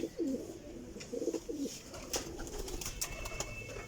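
Several pigeons coo in low, rolling phrases close by, desi flying pigeons kept in a loft, with a couple of brief sharper chirps and light rustling around them.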